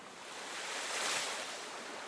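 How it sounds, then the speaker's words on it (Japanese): Ocean waves at a beach in a Pokemon Masters EX scene, heard as a soft rushing wash of surf that swells and recedes over about two seconds, with no talking. "波の音って不思議だね。 ずっと聞いてると"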